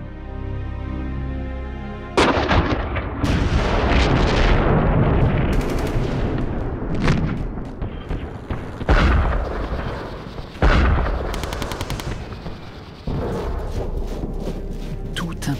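Battlefield gunfire and artillery of the First World War: heavy booms and rolling blasts with crackling shots, loud and continuous, some bursts starting abruptly.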